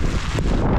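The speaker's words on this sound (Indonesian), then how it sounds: "Hujan angin lagi." Strong wind buffets the microphone on a mountain hike through rain on Mount Wilis, a loud, steady roaring rush with no voices.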